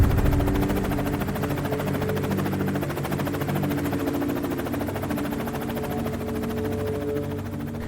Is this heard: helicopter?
yes